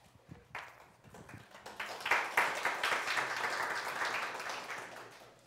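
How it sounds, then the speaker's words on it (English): Seminar audience applause builds from a few scattered claps into a steady round of many hands clapping, moderately distant, then sustains and slowly tapers. "I think you're the first person that got an applause"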